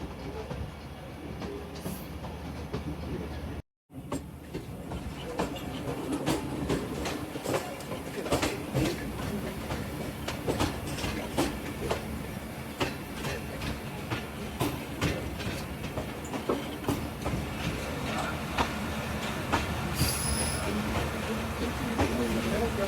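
A slow passenger train on the Lahore to Narowal line in Pakistan rolls off the main line onto a loop line, wheels clattering steadily over rail joints and points with a brief squeal, close and continuous, with a voice talking over it.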